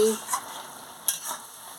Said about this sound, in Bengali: খুলে নিয়ে ভালো করে নাড়িয়ে দিচ্ছি